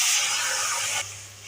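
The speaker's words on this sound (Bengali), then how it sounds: "দেখো আমার মশলা কষানো হয়ে গেছে, আমি জল দিচ্ছি।" Water poured into a pan of fried spice paste for a fish curry gives a loud, broad sizzling hiss that holds steady for about a second and then drops to a softer simmer.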